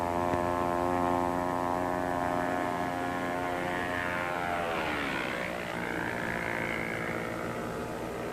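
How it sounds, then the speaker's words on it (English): A radio-controlled target drone plane used for fleet gunnery practice flies past, its propeller engine droning loudly and steadily with a pitch that bends downward and shifts midway as it passes. "It's a radio-controlled target drone plane."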